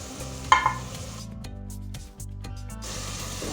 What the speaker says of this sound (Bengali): এখন এভাবে একটু কষাবো কিছুক্ষণ।